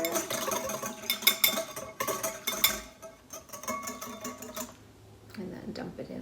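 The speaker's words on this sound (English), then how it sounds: "you just wanna mix it up really well with your whisk" Sauce whisked in a bowl for an avocado boat recipe, rapid rhythmic metal clinks and scraping in bursts, close and fairly loud, fading toward the end.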